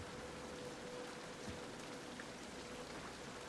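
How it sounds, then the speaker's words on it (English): Steady rain from King's Quest Chapter 2 falls evenly and without a break, a dense, soft patter that fills the whole stretch with no voices over it. "All this rain should help this tree grow."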